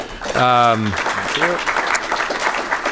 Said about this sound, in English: So one more round of applause for Reid.